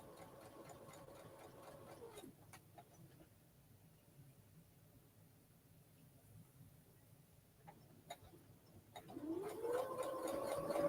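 A sewing machine runs in short bursts, whirring at the start, falling silent through a quiet stretch, then speeding up again at the end with a rising motor whine, nearby and moderately loud.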